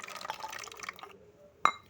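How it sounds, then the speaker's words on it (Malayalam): Water poured into an empty glass for a home smoke experiment: about a second of soft splashing pour, then a brief pause and a single sharp glass clink, all fairly quiet. "വെള്ളം ഒഴിക്കാൻ പോവാണ്"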